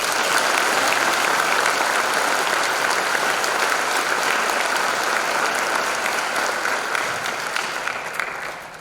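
Sustained audience applause for school band students, including trombone, euphonium and tuba players, at a spring band concert, a dense steady clapping that holds for most of the stretch before tapering off slightly at the end.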